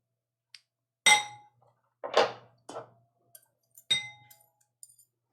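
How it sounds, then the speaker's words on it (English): A whisk stirs a thick peanut butter dipping sauce in a bowl, giving a few irregular clinks and scrapes against the side, separated by short quiet gaps, with no talking. "And what we're going to do is whisk this together."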